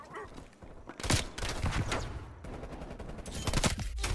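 AK-74U gunfire in Call of Duty: Black Ops Cold War, with loud rapid bursts of automatic fire repeating in several close, sharp volleys and short gaps between them.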